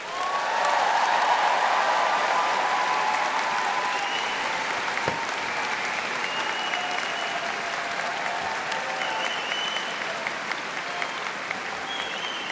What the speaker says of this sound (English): Let's give Gurish another round of applause